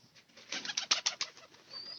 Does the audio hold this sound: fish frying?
no